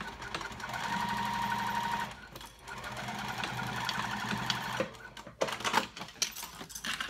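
Sewing machine stitching the seam edge of a lined cork dopp kit, running in a steady, rapid mechanical whir that pauses briefly midway, then resumes and ends in a few short, choppier bursts.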